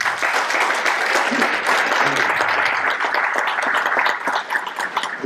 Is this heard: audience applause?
yes